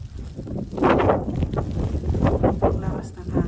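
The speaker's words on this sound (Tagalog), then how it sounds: "Ang lakas ng hangin." Strong, gusting wind roars and buffets the microphone outdoors during a snowstorm, with people talking over it throughout.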